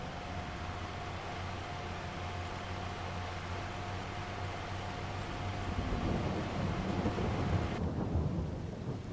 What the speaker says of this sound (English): the rain's probably going to be stopping soon